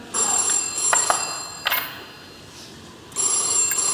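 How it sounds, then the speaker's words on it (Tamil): A telephone rings in a home in repeated bursts of electronic ringing separated by short gaps, fairly close and clear, with no speech. "போன் அடிக்கிறத யாராவது எடுக்கிறது?"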